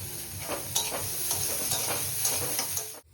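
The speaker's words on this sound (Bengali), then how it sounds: "একদম হালকা জাস্ট সতে করেছি সবজিগুলো আমি" Vegetables sautéing lightly in a pan for white sauce pasta, a steady broadband sizzle with a few soft spatula scrapes and stirs, close and continuous until it cuts off abruptly at the end.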